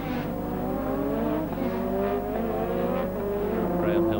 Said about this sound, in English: Up to Druids, the slowest corner on the course. Prost closes right up under braking